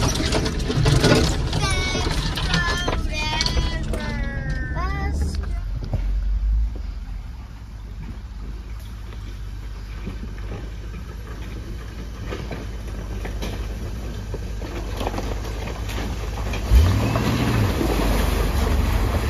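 A car turning around at the dead end of a remote road in the Ouachita Mountains, with a steady engine and tyre rumble running throughout and a brief louder surge near the end.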